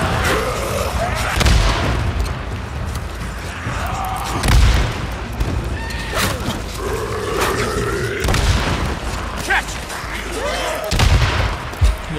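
Bombs go off in Days Gone, three or four deep booming blasts spread through the clip over a constant game din, with someone talking excitedly in between.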